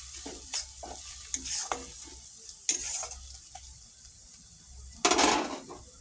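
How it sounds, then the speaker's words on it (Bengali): Chili powder sautéing in a pan for a peas and potato dish, scraped and stirred in uneven bursts, with a few louder scrapes over a faint steady sizzle and no talking. "লঙ্কার গুঁড়ি এই যে এটা ভালো করে কষাবো"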